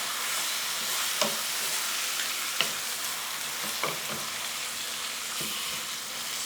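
Chicken sizzles loudly in a pan with a constant hiss as it is stirred, with a utensil clicking against the pan every second or so. The chicken is for afritada, a Filipino dish.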